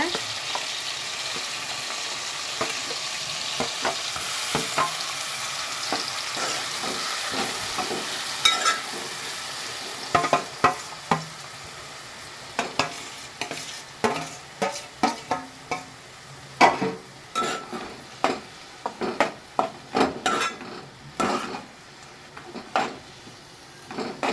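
A spice paste fries in a pan with a bright sizzle, while a utensil scrapes and clacks against the metal in quick repeated strokes that grow busier in the second half.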